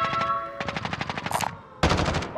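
Rapid automatic gunfire in a Call of Duty: Modern Warfare battle royale match, a fast burst of close shots followed by a brief pause and then another loud volley, with no talking.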